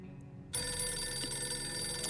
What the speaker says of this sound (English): We're not answering the phone.